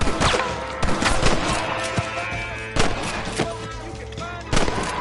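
Repeated gunshots crack in the video game Red Dead Redemption, sharp loud reports spaced irregularly across a few seconds over game music and ambience.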